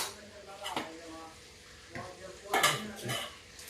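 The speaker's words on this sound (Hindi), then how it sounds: "अब ये बैंगन की कढ़ाई हटा देते हैं और यहाँ पे बनाते हैं हम कचौड़ियाँ।" Metal pots and utensils clatter as a brinjal kadhai is moved off the stove for kachori making, a few close knocks and scrapes with a brief sizzle, with someone talking over them.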